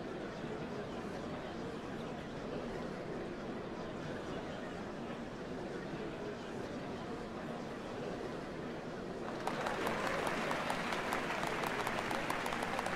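A large crowd applauds steadily at a ceremony in Final Fantasy XIV, a soft wash of clapping that grows louder and brighter toward the end.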